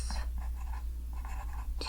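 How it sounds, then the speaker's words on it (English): A pencil scratches on paper in soft, close strokes and short bursts at a quiet, intimate level, as if someone is jotting down travel notes. "I'm going to just jot this down."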